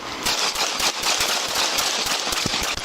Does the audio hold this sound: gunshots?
yes